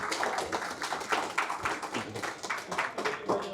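An audience at a Tamil gaming meetup in Chennai claps to welcome arriving guests. The applause is brisk and close, a short burst of many hands.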